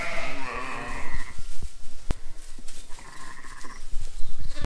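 Ewes and lambs bleating as they are let out to grass during lambing season, several loud wavering calls close by, one long bleat at the start and more overlapping later, with outdoor rustling and knocks between them.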